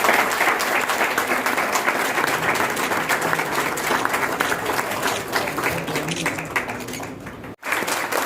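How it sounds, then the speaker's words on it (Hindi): Crowd applauding at the opening of an old-age home run by a charitable trust in India, with dignitaries being honoured; sustained, dense clapping throughout, with brief murmurs of voices and a momentary cut near the end. "तालियों की गड़गड़ाहट।"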